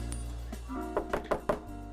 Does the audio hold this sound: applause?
no